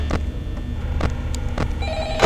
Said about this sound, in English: Oh, answer the dang phone.